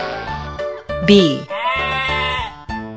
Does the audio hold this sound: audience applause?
no